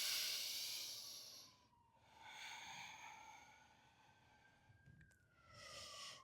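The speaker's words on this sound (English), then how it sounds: "Sorry if you can hear that siren out there." A city emergency siren wails outside, rising and falling as it passes at a distance, faint and muffled with quiet gaps between swells.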